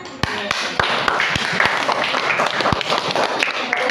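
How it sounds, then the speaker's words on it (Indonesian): Pupils in a school classroom clap together, with a few sharp, separate claps at the start and then a looser, uneven patter that continues, while a voice or two murmurs underneath. "Tepuk tangan."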